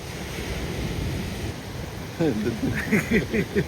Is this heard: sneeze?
no